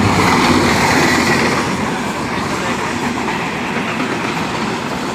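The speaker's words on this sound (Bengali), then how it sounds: "দেখেন ট্রেন আসতেছে কত জোরে" A long train rushes through Ullapara railway station close by, a loud, continuous roar and rattle of wheels on rails that is strongest at first and eases slightly as it runs past.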